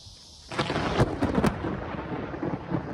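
Thunder from a very close lightning strike during a storm: a sudden loud crack followed by a heavy rolling rumble under steady rain.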